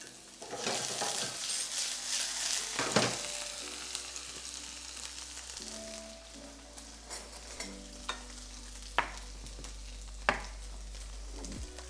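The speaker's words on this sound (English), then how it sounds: "that is definitely stirred, Dana." Mixed vegetables with elote seasoning sizzle and fry in a pan while being stirred, giving a steady crackling hiss broken by several sharp scrapes and taps of the spoon; no one speaks.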